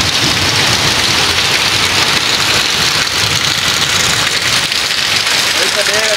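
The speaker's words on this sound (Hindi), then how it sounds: "बहुत ज़्यादा तेज़ बारिश आ चुकी है" Heavy, dense rain pouring steadily as a downpour, a loud continuous hiss with a low engine-like rumble beneath and a voice talking over it.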